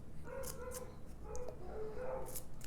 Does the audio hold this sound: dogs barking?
yes